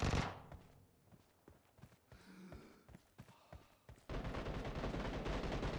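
Gunfire in the mobile battle-royale game PUBG Mobile during an 8-versus-8 match: a sharp opening burst, then scattered single shots and short volleys, ending in a loud sustained stretch of rapid automatic fire.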